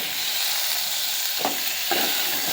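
Peanuts and garlic sizzling in hot oil in a pan for chutney, a steady close frying hiss with two brief stirring scrapes near the end.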